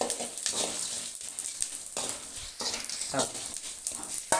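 Coriander seeds, fennel and cumin dry-roasted in a pan for a mutton curry spice mix, giving soft, irregular scraping and rustling stir sounds with light crackle, close and fairly quiet, no talking.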